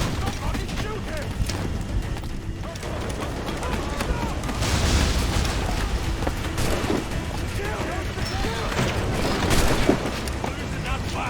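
Gunfire and cannon booms in the Assassin's Creed 4: Black Flag video game, a dense, continuous battle din with shots and blasts layered under shouting voices.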